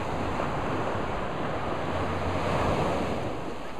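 Ocean waves wash continuously along Mero Beach in Dominica, a dense roaring surf with gusty wind noise on the microphone, steady throughout and with no speech.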